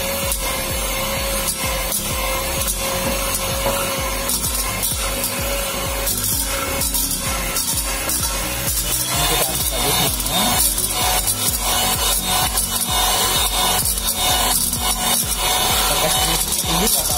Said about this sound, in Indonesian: kita bisa menggunakan mixer seperti ini